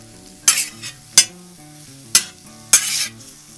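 Eggs frying on a plancha griddle stirred with a utensil, giving four loud close scraping bursts over a soft sizzle, with background music and no talking.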